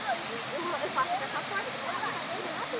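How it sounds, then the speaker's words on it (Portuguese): Steady outdoor rush of running water, like a stream or small waterfall, holds at an even level throughout, with faint chirps and scattered higher sounds on top. A voice may be faintly present. "Dá pra gente ouvir a água ali."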